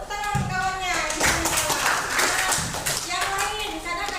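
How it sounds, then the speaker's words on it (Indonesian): Schoolchildren in a classroom clap for a classmate, a short burst of close, uneven hand claps with children's voices chattering over and around it. "tepuk tangan kawannya"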